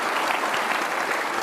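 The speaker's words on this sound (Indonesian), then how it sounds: "kita kasih tepuk tangan dong Kakak Edison." Studio audience applause fills a television talk-show studio at Mata Najwa, a steady, dense clapping that holds at an even loudness throughout the short stretch.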